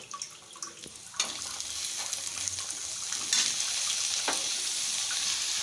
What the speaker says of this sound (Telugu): ఇప్పుడు మనం చిక్కుడుకాయలు వేసేసుకుందాం.